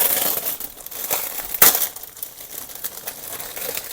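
Close-up crinkling of a plastic packet, irregular rustles with one sharp crackle midway, no voices.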